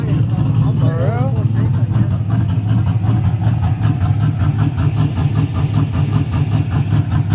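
A truck engine idles with a loud, choppy, lopey exhaust note through an aftermarket muffler, a steady low rumble throughout with a brief voice over it.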